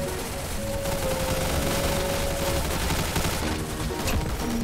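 Dense, sustained gunfire in a Roblox zombie shooter game, loud continuous rapid shots layered into a steady barrage with a brief tonal beep running under it.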